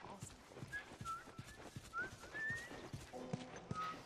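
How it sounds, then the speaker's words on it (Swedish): Enemies in The Last of Us whistle several short, rising signal whistles amid footsteps and game ambience, fairly faint and spaced out, with a player murmuring at times. "Sluta vissla nu, hallå."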